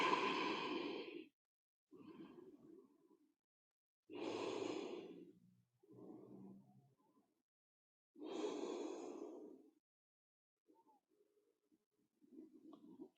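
Slow, deep breaths during a held pose in an intermediate yoga class: long airy inhales and exhales alternating in a steady cycle, close and fairly quiet, with near-silent gaps between them.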